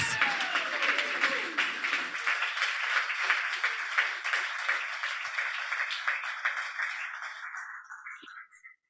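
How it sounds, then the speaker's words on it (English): Loud, sustained applause from an audience at a startup pitch night in Manitoba, dense clapping that holds steady, then thins and fades out toward the end. "Just a huge round of applause to all of the companies that pitched tonight."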